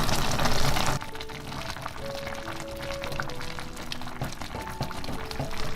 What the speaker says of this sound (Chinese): 盖上盖，调小火焖2分钟